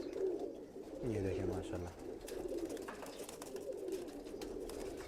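A male pigeon with a fully closed tail, of the churail breed, coos in low repeated bursts close by, with someone talking over and around the calls.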